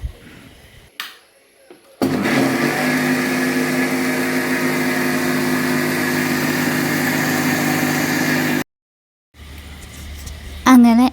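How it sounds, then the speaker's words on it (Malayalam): A kitchen mixer grinder blends jackfruit with jaggery syrup, a loud steady motor whir running unbroken for about six seconds before cutting off abruptly, with quieter handling sounds before and after. "ഇനി നമ്മൾ മിക്സിയിൽ ചക്കയും പിന്നെ ഈ ശർക്കര പാനിയും കൂടെ ചേർത്ത് ഒന്ന് അരച്ചെടുക്കുകയാണ്"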